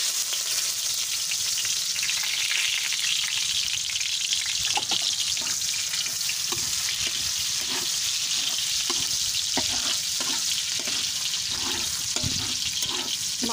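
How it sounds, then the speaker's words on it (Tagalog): Garlic and onion sizzle steadily in a lot of hot oil, loud and continuous, with occasional scraping clicks from a utensil stirring the pan and no talk. "So, igisa na natin yung bawang at saka sibuyas."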